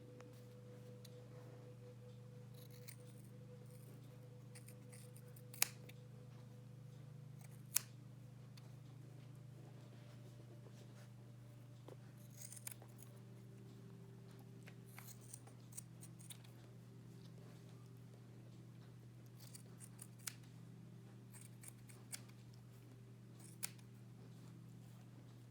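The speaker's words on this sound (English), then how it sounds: "I'll use the thinning shears again just to blend it" Thinning shears snip through a dog's fur during a grooming session, giving faint, scattered clicks and cuts spaced irregularly over a steady low hum, with no talking.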